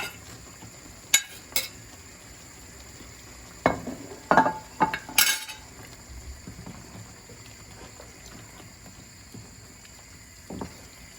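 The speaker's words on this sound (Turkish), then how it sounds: "Bir 10 dakikada böyle kavuracağım." Boiled beef sautéed and stirred in a pot: scattered sharp clinks of a utensil against metal punctuate a faint, low sizzle, close up, with no voices.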